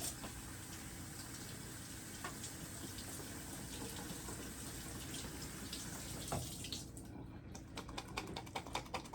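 Hot water running steadily from a kitchen tap, a continuous splashing wash with some light clatter near the end.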